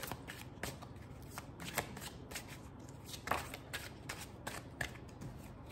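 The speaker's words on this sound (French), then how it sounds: "Je vais rajouter 3 cartes du tarot." Tarot cards are shuffled close up, with a quick run of crisp riffling and flicking bursts repeating steadily for several seconds, heard alone without talk.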